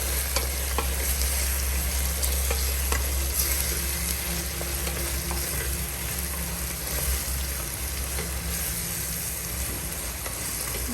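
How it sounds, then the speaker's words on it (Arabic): Tomatoes, chickpeas and spices fry in oil for Oran-style dourida, a loud, continuous sizzle close up with occasional scrapes of stirring and a low steady hum underneath. "نخلوهم بيان يتقلوا"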